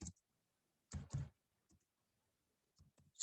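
Sparse mouse clicks while operating embroidery software on a computer, a short pair of sharp clicks near the start followed by quiet, then a few faint taps and one more click at the end.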